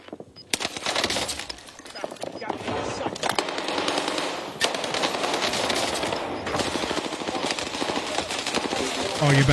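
Sustained automatic gunfire from Call of Duty Warzone, Rebirth map, loud dense bursts of rapid shots nearly continuous throughout, with a player talking over it.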